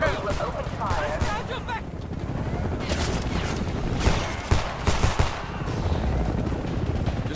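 Sustained automatic gunfire in the Homefront video game, with dense, overlapping rapid shots and sharper individual cracks, mixed with shouted voices and battle noise throughout.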